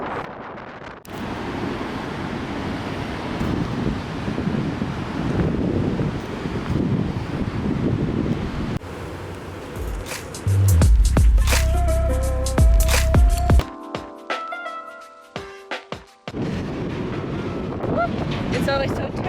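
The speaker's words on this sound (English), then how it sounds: "It's always so terribly windy in the front." Strong wind buffeting the front of a boat off Bainbridge Island, a loud rushing roar with water noise, broken midway by heavy low thumps and a stretch of other mechanical and tonal sounds before the wind returns.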